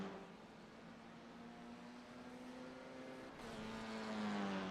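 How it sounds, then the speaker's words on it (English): FIA F4 race cars drive through the S-bends on a racing circuit, a continuous engine whine that holds steady and then shifts pitch as the car changes speed, heard at moderate distance under a broad wash of track noise. "Very distinctive sound of these FIA F4 cars. As he comes through the S's."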